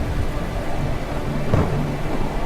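Deep rumble of thunder from an approaching storm swells midway through, a low rolling boom over steady background noise.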